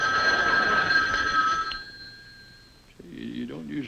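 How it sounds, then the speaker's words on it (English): A telephone bell rings steadily and loudly in an old sitcom scene, then fades away, and a voice begins speaking near the end. "I believe this is the telephone"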